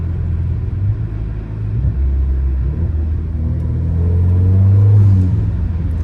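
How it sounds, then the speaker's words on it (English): Engine of an Alfa Romeo Giulia driven in manual mode heard from inside the car, a loud low rumble that swells as it accelerates and then eases off, with road and wind noise throughout. "you do get a little turbo noise, I've noticed. And kind of like a blow off"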